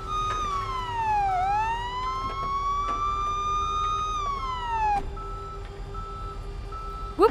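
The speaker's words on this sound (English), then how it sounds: "Whoop whoop! That's the sound of the police." A police car siren in the Police Simulator: Patrol Officers video game wails and yelps, its pitch sweeping up and down before settling, loud and near, with a short thump at the end and no talking.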